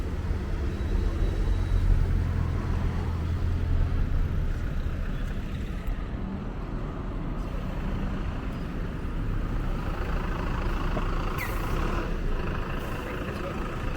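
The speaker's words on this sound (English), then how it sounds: "This is the typical Paris bus." A Paris city bus rumbles past on a street, its low engine drone loud and steady, with traffic noise around it and a brief hiss near the end.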